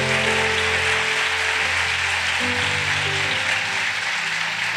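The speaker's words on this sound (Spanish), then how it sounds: "Denle un aplauso al Señor." A church congregation applauds during a sermon, a dense, even patter of clapping with sustained organ or keyboard tones underneath.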